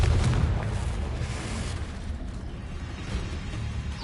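Confringo spell blast in Hogwarts Legacy, a booming explosion with rumbling low-end decay that fades over several seconds.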